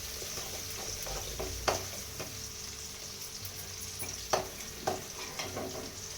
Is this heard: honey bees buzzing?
no